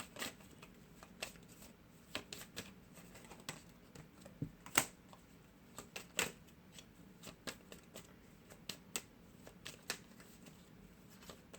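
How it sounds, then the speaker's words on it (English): Tarot cards being shuffled by hand, heard as a quiet, close series of soft riffling and tapping bursts in an irregular rhythm, with no talking. "I'm shuffling here."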